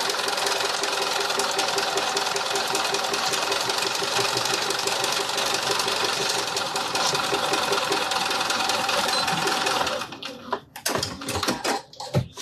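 A sewing machine runs a back-and-forth stitch at a steady fast whir for about ten seconds, loud and close, then stops, leaving a few clicks and handling knocks, with no talking.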